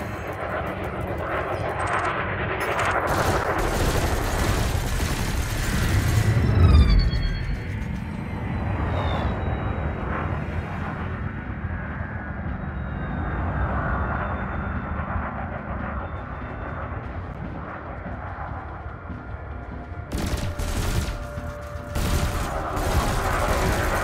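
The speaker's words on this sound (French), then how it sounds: "Assurez-vous d'avoir la cible dans votre réticule et ouvrez le feu." Ship weapons in Elite Dangerous fire on a training drone: a dense, continuous roar of rapid gunfire and engine rumble lasting the whole stretch, with a swelling whoosh partway through and sharper bursts near the end.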